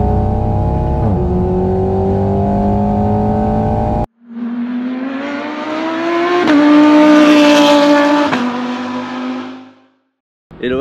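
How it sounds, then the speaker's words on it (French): Race cars lap the Magny-Cours circuit in France, their engines droning and rising as they pass by, loud and close with a strong revving pitch climbing and fading, then cutting off near the end. "Il y a des voitures qui roulent"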